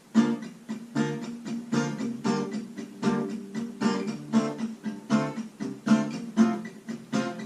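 Strummed guitar plays the bridge of a song in a steady repeating rhythm of down and up strokes, close, warm and sustained, with no voices.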